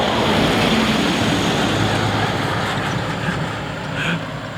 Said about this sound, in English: quiet country road, very little traffic, and a lorry goes by